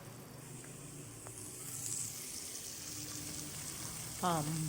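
A soft, steady sizzle of onion frying in oil runs throughout, fairly quiet, with a brief faint tonal beep near the end.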